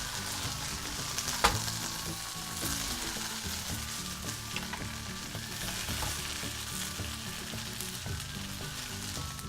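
Potatoes frying on a cooking sheet, a dense, even sizzle running throughout with faint crackles and one brief sharp click early on, close and alone.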